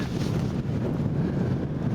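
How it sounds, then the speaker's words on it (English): Wind blowing across a microphone outdoors at an FPV drone flying field, a low continuous rumbling buffet with gusty fluctuations, close and fairly loud, with no talking. "it's a little windy out here"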